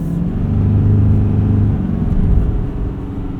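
A loud, steady diesel engine rumble from a 2025 GMC Sierra 2500HD Denali Ultimate pickup on the move, deep and continuous with a slight rise in revs midway.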